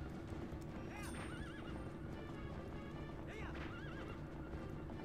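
A horse gallops in The Legend of Zelda: Twilight Princess HD, its clip-clopping hooves drumming steadily beneath two loud whinnies and other game sounds.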